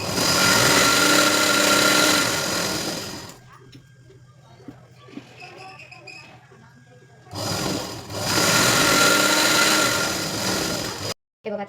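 A sewing machine stitching a blouse sleeve folded over five inches gives loud, close, steady whirring runs, with a quieter pause between them and a brief cut near the end.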